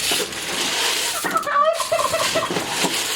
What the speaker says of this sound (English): I'm going to go ahead and feed the chickens